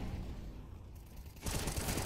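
Dense, continuous crackling gunfire from Counter-Strike: Global Offensive during a professional match, rising into a louder, harsher barrage halfway through.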